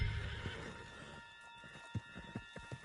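A horse whinnies loudly at first in the video game Red Dead Redemption, then hooves clip-clop in an uneven rhythm amid a steady electronic hum.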